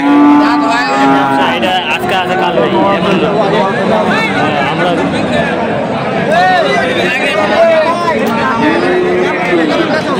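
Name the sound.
Friesian cross heifer calf mooing at cattle market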